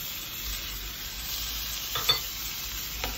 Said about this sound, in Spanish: Ya que está caliente el sartén, vamos a poner tocino.